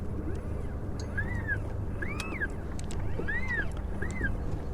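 A Lowrance Ghost trolling motor on a fishing boat gives off a series of rising-and-falling robotic whines, four distinct electronic sweeps over steady wind and water noise.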